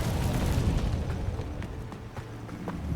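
An Incendio fire spell bursts in the video game Hogwarts Legacy, a dense roaring whoosh of flame with several sharp crackling pops over steady rumbling combat noise.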